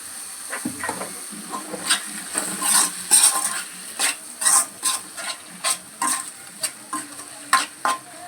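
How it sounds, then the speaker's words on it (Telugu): Tomatoes cooking in a pan for native chicken curry, stirred in a steady rhythmic series of scraping strokes over a soft background sizzle, close and alone without talk. "టమాటీలు బేగా ఉడకాలంటే కొంచెం ఉప్పు వేసుకోవాలి"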